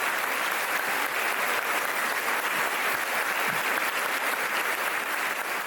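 A church congregation at an evening Bible study in Leganés, Madrid, applauds warmly and steadily, a dense, even wash of clapping that holds at the same level throughout with no voices over it.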